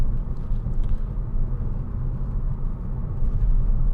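A 2011 Skoda Octavia 2.0 TDI CR Laurin on a test drive gives a steady low diesel and road rumble heard from inside the cabin, even and continuous with no talking.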